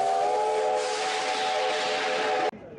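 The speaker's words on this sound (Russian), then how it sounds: "Главным событием стал поезд Победы, прибывший на железнодорожный вокзал Севастополя." Steam whistle of the Victory train arriving at Sevastopol railway station, one long sustained loud hoot with a chord-like tone, cutting off abruptly, no talking over it.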